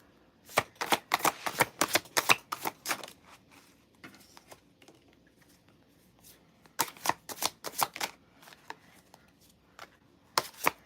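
Rapid bursts of riffling cards from a large deck, repeated shuffles with crisp flapping clicks, pausing in the middle before starting again; no voices.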